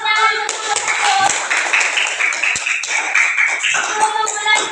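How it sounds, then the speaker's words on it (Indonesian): Students in a classroom clap together, a dense, continuous burst of hand claps lasting a few seconds, close and lively with some mixed voices. "kasih tepuk tangan betul-betul"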